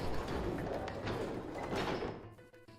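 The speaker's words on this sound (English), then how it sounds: "they both pushed and the gate creaked open" Heavy gate in the Zero Escape game pushed open by two people, a dense grinding creak with scraping thuds that swells and fades over a few seconds, close and moderately loud.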